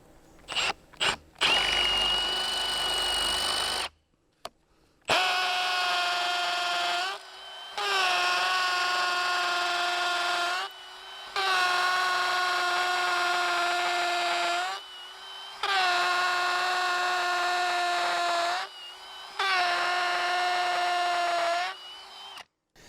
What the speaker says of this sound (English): That hammer setting makes it a little bit easier when you're drilling through concrete.